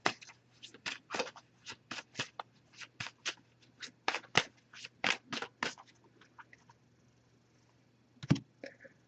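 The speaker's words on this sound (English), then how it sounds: "I did pre-shuffle this deck, but I'm going to give it a few more shuffles now." Oracle cards being shuffled in a series of quick riffling bursts, close and crisp, with short pauses between shuffles and no talking.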